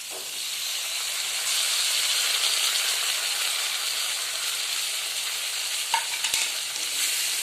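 Potatoes fry in a pan with ginger, cumin and chili, giving a steady close hiss and sizzle throughout, with occasional stirring clinks.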